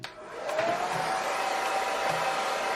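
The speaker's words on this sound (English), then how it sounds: "I'll use my blow dryer on medium heats." A hair dryer on medium heat whirs on steadily with a continuous airy rush and a faint motor whine, running alone without interruption.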